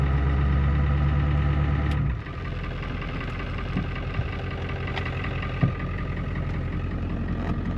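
A 1994-1997 Ford OBS pickup truck engine runs rough just after starting, a loud low rumble that drops off abruptly after two seconds and then settles into a quieter, steady idle with occasional knocks nearby.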